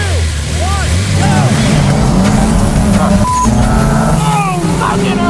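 Turbocharged cars launching in a drag race, loud engines roaring and revving close by with turbo whistles and rising pitch sweeps, continuous throughout with voices mixed in.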